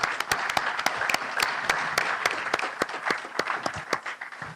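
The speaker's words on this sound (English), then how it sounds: "I request you to join me in giving them another round of applause" Conference audience applauding the retiring session moderator and rapporteur at the ISCTRC general conference, a steady room-filling patter with several sharp, close individual claps standing out from the crowd throughout.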